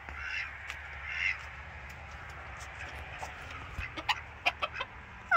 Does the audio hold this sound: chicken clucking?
yes